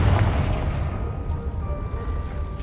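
The Confringo blasting spell going off in Hogwarts Legacy, a single deep boom with a rumbling low tail that fades over a couple of seconds, loud and close.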